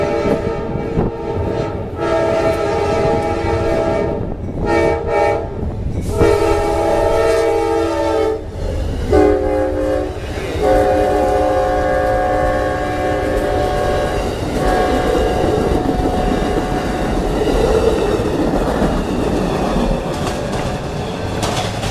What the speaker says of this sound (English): Amtrak 91's about to go through Plant City, Florida